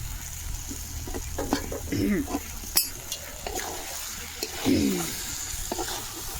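A spoon scrapes and stirs through thick mutton curry in a frying pan, with a soft sizzle and irregular clinks of metal against the pan.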